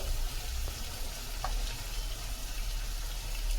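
Fried onion and tomato sizzling in a pan as turmeric and other spices are added: a continuous low sizzle with faint crackles, close, with a steady background rumble and no talking.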